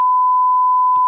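A single steady censor beep, a pure sustained tone lasting about one second, loud and alone with no talk over it.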